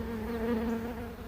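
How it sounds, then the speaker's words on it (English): A honey bee swarm crowding the frames of a hive, with bees doubled and tripled up, gives a close, steady droning buzz with a strong tonal hum and no talk. "There's just so many bees on the frames"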